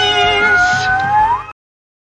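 A cat meowing close and loud in one long, drawn-out, rising-and-falling cry lasting about a second and a half before cutting off.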